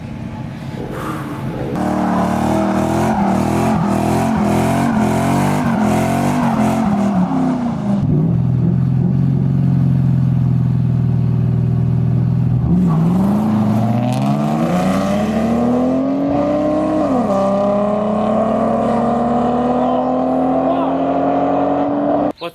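Car engines rev hard during drag racing, a loud close engine climbing through gears with rising pitch, a brief drop, then another long acceleration pull, with some tire squeal mixed in.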